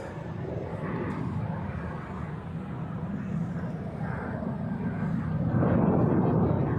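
A Thai Airways Boeing 777 taxis at Zurich airport in freezing weather, giving a steady, moderately distant jet-engine roar that swells gradually toward the end.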